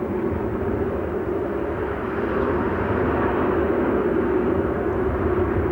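An Aeritalia G222 twin-engine transport plane, fitted with a firefighting water boom, flying at the Farnborough air show, producing a steady, loud turboprop drone with a broad roar that stays constant throughout.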